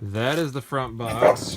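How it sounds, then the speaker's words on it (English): Dogs bark and yip close by indoors, overlapping with a person talking during a video game console unboxing. "excuse the dogs barking over here."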